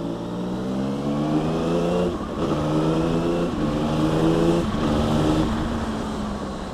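A 2021 Yamaha XSR900 with its CP3 engine revs hard and close, its throttle climbing in repeated surges with brief dips between, the rasping engine note filling the air with no voices.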